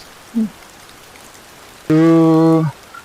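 Rain falls steadily with a soft, even hiss throughout, broken midway by a loud, sustained horn-like tone lasting under a second.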